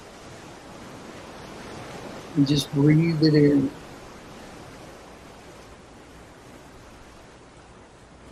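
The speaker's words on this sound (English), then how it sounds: "Let's listen to the waves for a second." Soft, steady ocean surf hisses continuously in the background, with someone speaking briefly and calmly over it partway through.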